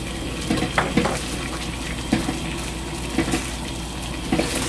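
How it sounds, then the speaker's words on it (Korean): A pot of water boils vigorously on high heat with cold eggs straight from the refrigerator inside, giving a steady bubbling rush broken by small periodic pops and splashes. "계란이 지금 끓고 있죠."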